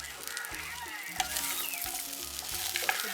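A Jaffna-style broad bean curry fries in oil over low heat, with a soft, continuous sizzle and occasional stirring scrapes from a spoon against the pan, close up and with no talking.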